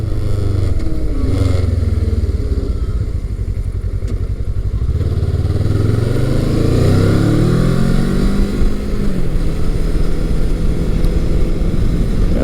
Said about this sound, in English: The motor has nice grunt out of the corners, snappy.